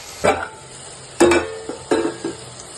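Onions sautéing in a pan for a prawn and drumstick curry: a few quiet stirring scrapes in three short bursts, with a faint sizzle between them, close by and with no talk.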